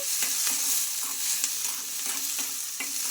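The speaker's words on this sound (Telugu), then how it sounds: "ఇంకా మనకు పచ్చిమిర్చి అయితే కొంచెం బాగా ఫ్రై అవ్వాలి" Green chilies, tomato and garlic fry in hot oil in a kadai with a loud, continuous sizzle, broken by the light scrape and tap of a spatula stirring at intervals.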